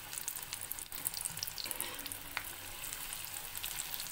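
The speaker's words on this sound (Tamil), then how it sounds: "முடிஞ்ச வரைக்கும் மீடியம் ஃப்ளேம்லேயே வச்சு ஃப்ரை பண்ணிக்கோங்க" Colocasia (cheppankizhangu) 65 pieces frying in hot oil over a medium flame, a steady close sizzle and crackle running continuously without talk.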